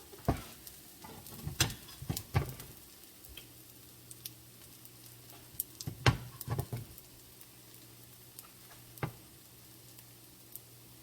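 Zucchini fritters frying in a pan: a faint, steady sizzle with scattered small pops and ticks, quiet and close, with no talk.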